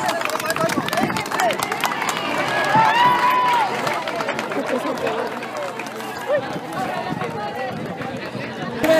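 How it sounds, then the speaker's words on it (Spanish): A large crowd at a motocross event applauds and cheers, sustained and loud, with shouting and chatter mixed into the clapping. "¡Bravo! Esos aplausos."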